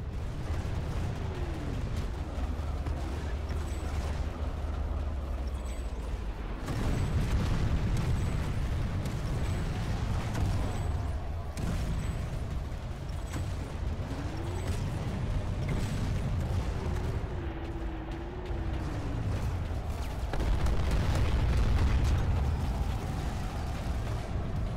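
Rocket strikes slam into tanks during a tower defense battle in the sci-fi shooter Planetside 2, a series of heavy booming explosions over a constant low battlefield rumble, with engine whines rising and falling between blasts.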